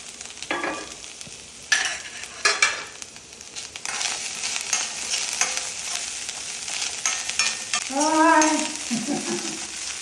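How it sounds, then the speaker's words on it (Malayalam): Grated coconut roasts in a pan alongside red-browned urad dal and chillies for a bitter gourd and sesame curry, giving a steady close sizzle broken by scraping stirs, with a brief voice near the end. "നാളികേരം ഒന്നൊന്ന് വറുക്കാം"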